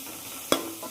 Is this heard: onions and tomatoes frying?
yes